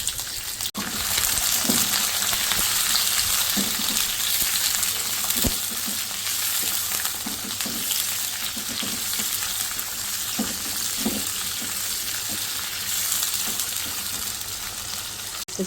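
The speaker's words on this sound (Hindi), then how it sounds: "से 2 मिनट बस इसको मैंने हल्का सा फ्राई किया" Chopped onion, capsicum cubes and green chillies fry in a pan with a loud, constant crackling sizzle, broken by scattered pops and stirring knocks, close up and uninterrupted by speech.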